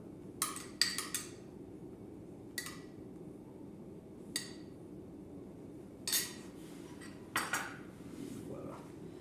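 A utensil stirs ricotta cheese in a bowl, giving a handful of sharp, scattered clinks against the dish over a low background hum.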